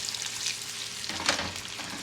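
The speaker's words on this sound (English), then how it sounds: "shake the pan and move them around and get them coated" Candied potatoes are shaken and slid around a pan, giving a brief sizzling rustle with a louder scraping surge partway through.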